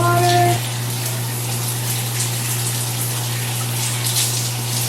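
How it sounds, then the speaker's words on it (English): Shower water runs in a steady, even rush while rinsing curly hair with room-temperature water, a constant hiss with a low hum beneath it, close and continuous, after a brief tonal sound at the very start. "So let me go ahead and rinse this with room temperature water."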